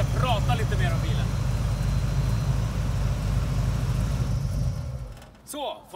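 A De Tomaso Pantera GTS V8 engine rumbles steadily at idle, a deep continuous drone that cuts off near the end, followed by a brief faint sound.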